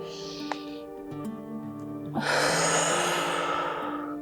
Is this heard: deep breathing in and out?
yes